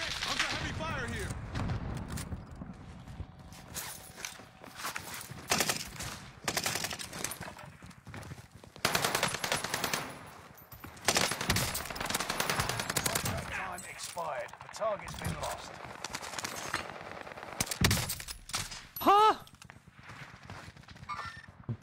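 Rapid video game gunfire in an online multiplayer match, bursts of automatic shots and impacts scattered through the stretch, with a player talking between and over the shooting.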